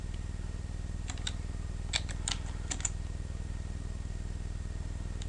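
Someone types on a computer keyboard while entering text into a sign-up form, giving a few short bursts of quick, light key clicks over a steady low hum.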